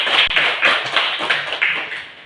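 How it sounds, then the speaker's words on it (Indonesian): A classroom full of people clapping together, a steady dense applause that fades slightly toward the end. "Aplaus dulu, tepuk tangan buat kelompok 1."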